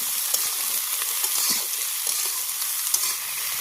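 Local eggplant frying in oil with whole garlic and bay leaf in a village kitchen pan, a loud, steady close sizzle with light stirring scrapes and crackles throughout.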